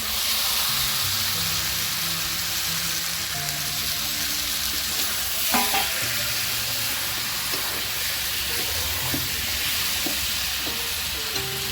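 Potatoes frying in oil with chicken, a steady loud sizzle and hiss running throughout, broken now and then by the scrape of stirring.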